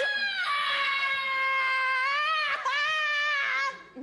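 A person screams in a long, piercing, rising and wavering cry, with a brief break partway through before it carries on. The sound is loud and close, comes from a French comedy film and has no talk over it.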